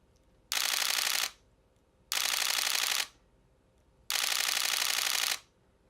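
Camera shutter fired in three separate bursts while the camera is being moved, each a loud, sustained mechanical rattle of about a second, with quiet gaps between them.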